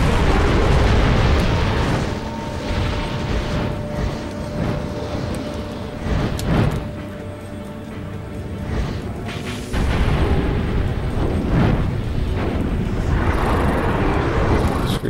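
Loud, dense barrage of cannon fire and booming explosions from huge supply vessels in the Drakengard video game, with heavy sustained rumble, sharp blasts at intervals and a brief lull before the barrage resumes.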